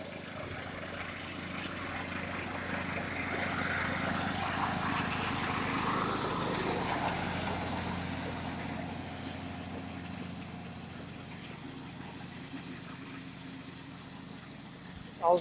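A riding lawn mower drones steadily while cutting grass, its engine swelling as it nears, then fading into the distance, with a short knock at the very end.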